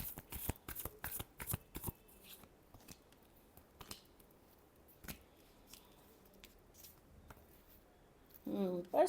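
Tarot cards are riffled in a quick burst of crisp, papery flutters near the start, followed by quieter handling rustles and a short stretch of speech near the end.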